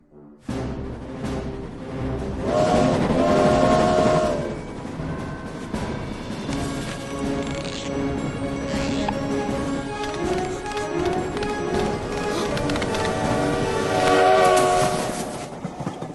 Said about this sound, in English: that ending train horn